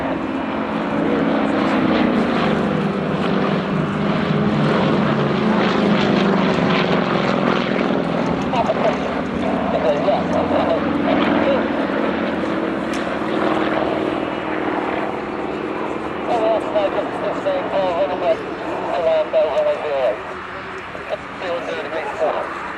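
Yak aerobatic propeller planes flying in formation at the Cotswold Airshow, one rolling around the others, with a loud, steady droning of piston engines throughout and a commentator talking over it.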